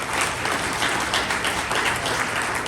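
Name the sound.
audience applause at mayoral forum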